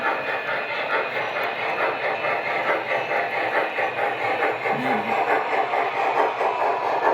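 An MTH Proto 3 toy train runs with a steady, close mechanical rumble and faint rhythmic clicking. The sound holds at an even level throughout, with no voices.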